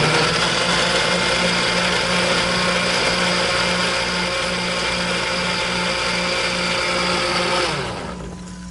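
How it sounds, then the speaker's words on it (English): A blender purees red pepper for a tequila halibut vinaigrette, a loud steady motor whir with a churning, rattling edge running continuously for several seconds before winding down at the end, with no voices. "So now I'm going to turn the blender on."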